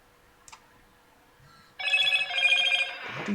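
A telephone rings loud and close in an indoor room, its bright trilling bell starting abruptly after near silence and repeating steadily, with no talk over it.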